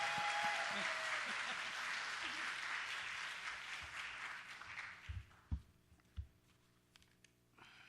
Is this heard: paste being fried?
no